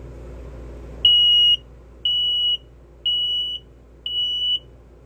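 Four evenly spaced, shrill electronic beeps from a smoke alarm being tested inside a truck camper, each about half a second long, sounding over a low background hum.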